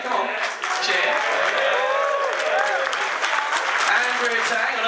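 A convention audience at a costume contest applauds and cheers loudly for the full length, with steady clapping under whoops and an announcer's voice over the crowd.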